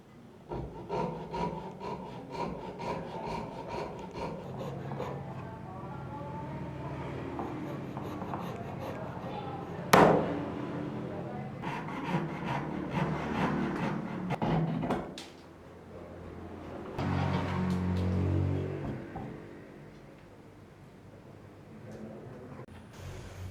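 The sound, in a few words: filing or sanding resin sword edges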